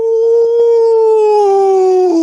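A man imitates a wolf howl with his voice, holding one loud, sustained, close tone that slowly sinks in pitch over about two seconds.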